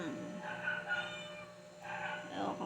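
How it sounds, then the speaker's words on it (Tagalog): A hungry pet cat meows for food in a kitchen, two drawn-out calls with a pause between them, fairly close over a low household background. "Gutom na rin yung aking pusa. Humingi na ng pagkain."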